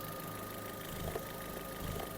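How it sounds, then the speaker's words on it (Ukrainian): An Opel Zafira B 1.8 engine idles steadily with a low, even rumble and faint rhythmic knocking, nearby and continuous throughout. "робота двигуна."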